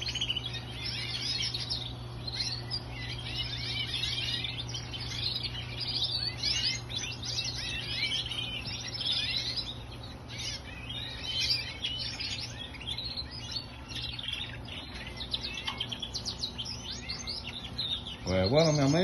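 Nearly 70 small pet birds chirp and tweet continuously in a busy, overlapping chorus, close by, over a low steady hum.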